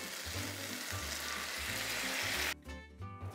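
Ramen sauce sizzles and fries loudly in a hot pan, and the steady crackle eases into a softer bubbling near the end.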